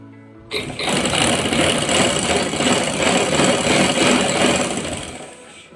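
A sewing machine stitches a folded hem on a simple salwar, starting abruptly and running in one steady, close, continuous whir for several seconds before easing off.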